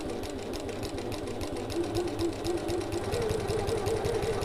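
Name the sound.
sewing machine stitching an evening bag corner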